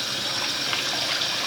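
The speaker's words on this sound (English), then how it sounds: "So let's fill the sink up with some hot water." Hot water runs from a tap into a sink, a steady, close gushing splash that continues without pause.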